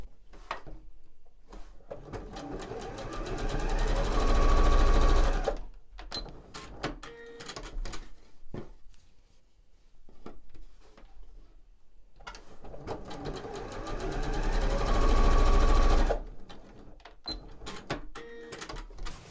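A sewing machine stitches scant quarter-inch seams on a small quilt block, running in two bursts of rapid whirring with handling noises and short stops between them, close and without talk.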